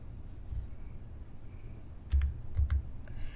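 Quiet computer keyboard keys tap in short bursts, a few isolated clicks early and then a quicker cluster of typing near the end, close and dry with no talk.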